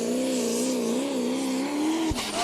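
A competition pulling tractor at the Putten tractor pulling event in the Netherlands holds a loud, steady high-revving engine drone, rising and falling slightly, then a sharp thump near the end.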